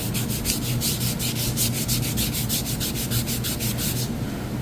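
Rapid back-and-forth sanding strokes on a beechwood kitchen cabinet to remove glue, a rhythmic, close scratching rub that stops just before the end.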